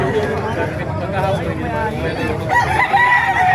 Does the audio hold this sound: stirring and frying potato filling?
no